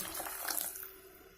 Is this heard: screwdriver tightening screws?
no